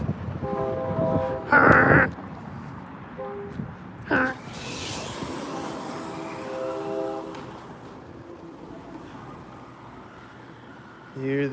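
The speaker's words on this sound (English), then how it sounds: "You hear the train horn syncing up on me over and over like a terrorist" Train horn blasts sounding in repeated bursts beside a road where cars are moving, the loud harmonic honks separated by rumbling traffic and wind noise.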